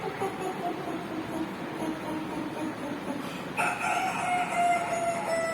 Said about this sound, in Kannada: ಕೋಳಿ ಕೋಳಿ ಸೌಂಡ್ ಇದೆ